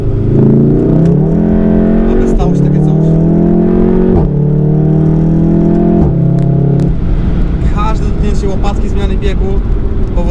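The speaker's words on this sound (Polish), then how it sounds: "W trybie race momentalnie redukuje się nam bieg, słyszymy wydech tylko wystarczy muśnięcie gazu" A 2016 Volkswagen Golf 7 R 2.0 TSI tuned to 400 hp in race mode roars loudly, rising in pitch through repeated quick gear shifts, with a sharp, crackling exhaust between pulls.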